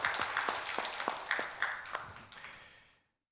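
A congregation in a church gives a round of applause, quiet scattered claps in a loose rhythm that taper off and fade to silence near the end.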